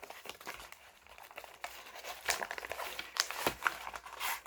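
Paper envelope holding a gift package being torn open and handled, with soft crinkles and rustles that build to sharper rips toward the end, close by and fairly quiet.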